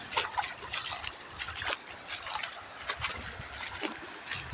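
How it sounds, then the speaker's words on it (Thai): Someone wades on foot through shallow sea water near an island, with repeated splashing and sloshing steps in irregular rhythm, close and fairly loud. "เดินลุยน้ำกันหน่อยครับ"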